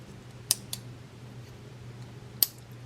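Leatherman Squirt PS4 and Micra keychain multitools being opened, with three sharp metallic clicks at close range, two close together and one a couple of seconds later, over a faint low hum.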